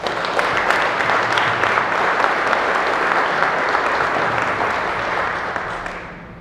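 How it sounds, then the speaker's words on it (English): At a ribbon-cutting ceremony for the McDowell EMS headquarters, the audience gives a sustained round of applause, full and steady, then tapers off at the end. "So I would like to just give them a special applause for saving my life"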